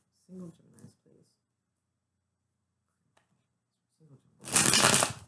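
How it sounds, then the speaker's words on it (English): A brief burst of tarot cards being riffle-shuffled, loud and close, after some quiet speech and a pause. "one more shuffle"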